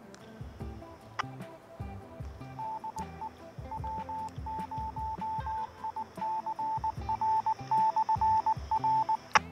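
An amateur radio repeater answers on a handheld 2 meter radio through a roll-up cloth antenna: steady tones, beeps and clicks over a faint hiss, quiet at first and growing louder toward the end, with no speech.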